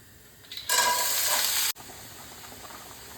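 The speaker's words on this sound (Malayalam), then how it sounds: "നമുക്ക് അതൊന്ന് വഴറ്റിയെടുക്കാം നെയ്ക്കകത്ത്" Carrots, beans and capsicum hit hot ghee with a sudden bright sizzle that holds for about a second, then cuts off sharply, leaving a faint crackle behind.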